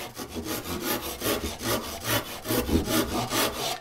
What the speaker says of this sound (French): si je prends une scie qui n'a rien à voir, qui est de beaucoup moins bonne qualité, mais qui est faite pour le tronçonnage